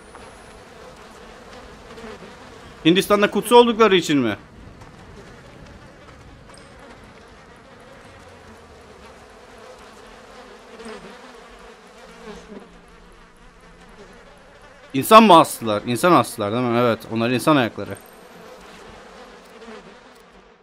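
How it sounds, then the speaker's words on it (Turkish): Flies buzz in the horror video game Outlast 2 in two loud, close swarming bursts, a short one and a longer one, over a low steady ambient drone while people talk. "Oh, sinek sesleri çok fena."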